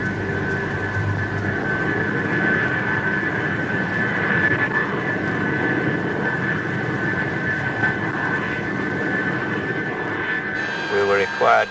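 Jet engines of an Avro Vulcan bomber roar in a loud, steady whine and rumble throughout, with a voice talking over it.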